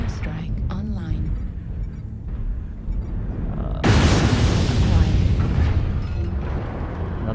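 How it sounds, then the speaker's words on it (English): Airstrike explosions in MechWarrior Online: a sudden loud blast erupts partway through and rolls into a sustained rumbling barrage, following quieter game noise and talk beforehand. "Airstrike online."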